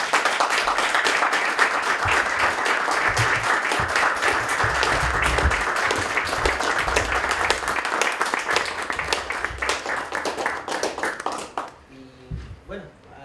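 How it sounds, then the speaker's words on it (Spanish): Sustained audience applause at a post-election analysis forum on Chile's Constitutional Council vote, dense and steady for about eleven seconds before fading out, with a few voices and murmurs underneath. "gracias nuevamente, un aplauso"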